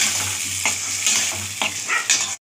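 A spice paste of ginger, onion and garlic fries in a pan, sizzling loudly and close up while a spoon stirs it in a few quick scraping strokes, with no voices.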